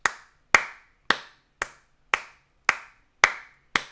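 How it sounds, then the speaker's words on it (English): One person claps their hands at a slow, steady pace, eight sharp separate claps, each close and crisp, with a short ring after it and silence in between. "I'm finna clap it up"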